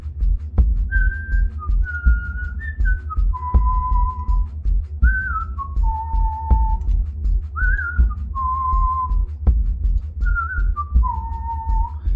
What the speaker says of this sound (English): Y'all didn't know I had whistling skills.